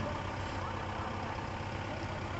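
A truck engine runs with a steady, dense low rumble, constant and fairly close, with no talk over it.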